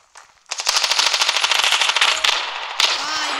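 Rapid automatic gunfire from the shooter video game STANCOFF 2, a loud sustained burst of closely spaced shots that pauses briefly and resumes.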